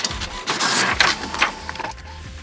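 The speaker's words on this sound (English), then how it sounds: "And they come hot off the printer, shipping labels." A shipping-label printer runs steadily for a couple of seconds, its whirring feed punctuated by brief louder bursts as labels for several orders come out. The sound is close and clear, with no talking.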